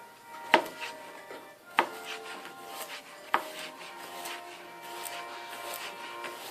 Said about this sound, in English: You want to cut it in half and then into quarters